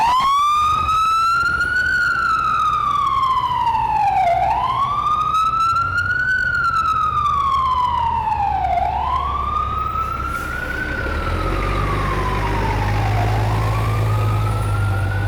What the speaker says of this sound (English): Here's an ambulance with the lights flashing and the sirens on.